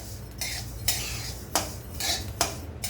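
Sesame seeds roast in a dry pan and get stirred, giving sharp scraping strokes about once a second over a faint crackle, close and fairly quiet, with no voices.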